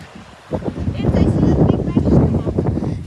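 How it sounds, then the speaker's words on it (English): Wind gusts buffeting the microphone outdoors on a nature trail lined with palm trees, a loud rumbling roar that rises after a quiet start and churns steadily, with voices talking over it. "It's windy, bro."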